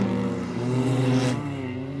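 Race cars circle Putnam International Trailway, engines droning steadily at a sustained rising whine as the cars pass, loud and fairly close, with no talk.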